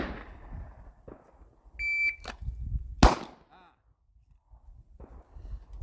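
Pistol shots during a pyramid shooting drill on a range: a few sharp, loud cracks, one especially strong near the middle, with a beep-like tone and speech around them.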